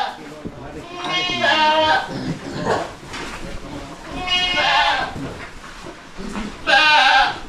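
A goat bleats loudly and repeatedly at close range, three drawn-out wavering cries spread over several seconds, with voices murmuring in the background.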